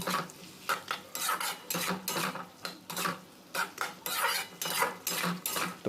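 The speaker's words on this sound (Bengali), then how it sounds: "জল দিয়ে আবার এইভাবে কষা শুরু করে দেবেন" A spatula scrapes and stirs drumstick and potato curry in a pan after a splash of water, giving repeated close metallic strokes in an uneven rhythm over a faint sizzle, with no talking.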